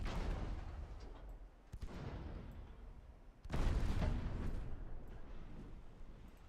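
Naval guns firing in the Ultimate Admiral Dreadnoughts warship game, a series of heavy booming shots with rumbling low-end tails, one louder broadside about midway, all without speech.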